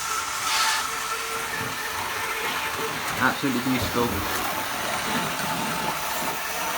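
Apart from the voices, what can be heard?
Triang blue Pullman model train running on DCC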